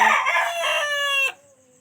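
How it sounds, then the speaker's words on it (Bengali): A single loud, close rooster crow on a foggy early morning, bright and harmonic, ending abruptly into near silence. "আর এদিকে সকালবেলা উঠেই শুধু মোরগটা ডাকাডাকি করছে"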